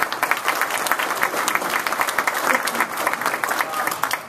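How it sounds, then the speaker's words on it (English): Audience at a law enforcement summit applauds the Ohio Attorney General, lively close clapping with distinct individual claps, slightly thinning toward the end. "How about giving him a round of applause for him?"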